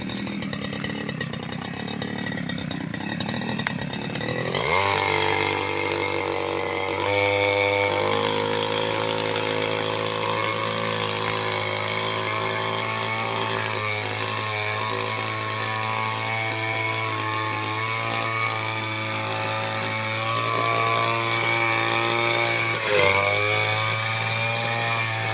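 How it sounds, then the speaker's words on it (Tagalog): A gasoline brush cutter starts up after a few seconds of quieter background, then runs steadily and loudly with a buzzing two-stroke drone and slight throttle changes, used while clearing a cemetery, with no talk. "first time ko maglagay ng gasolina at saka tuti dyan sa brush cutter"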